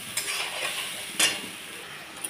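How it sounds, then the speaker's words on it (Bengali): Paste of ground onion, ginger, garlic and green chili going into hot oil gives a steady close sizzle, with a sharp hiss and spatter at one point partway through, and no voices. "এই তেলের মধ্যে আমি দিয়ে দেব হচ্ছে যে পেঁয়াজ, আদা, রসুন, সব কাঁচা লঙ্কাটা বেটেছিলাম সেইটাই আমি এর মধ্যে দিয়ে দিচ্ছি।"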